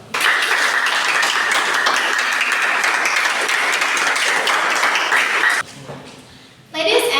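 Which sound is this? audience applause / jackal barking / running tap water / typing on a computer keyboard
audience applause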